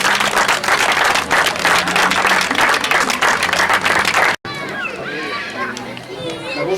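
A crowd at an outdoor street-arts festival on the esplanade in Champs-sur-Marne gives dense, sustained applause for about four seconds, then an abrupt cut leads to a single voice speaking.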